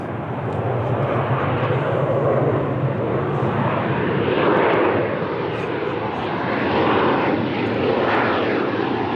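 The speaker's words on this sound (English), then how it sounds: "KLM 737." KLM Boeing 737 airliner at Lisbon Airport, a steady, loud jet roar holding for the whole stretch with slowly swelling and fading engine tones, no voices.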